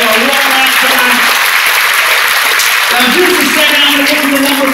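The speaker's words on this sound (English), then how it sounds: "Give them a warm round of applause." Audience applause at a hypnosis show in a hotel venue, a steady dense wash of clapping throughout with tonal voices or music weaving underneath.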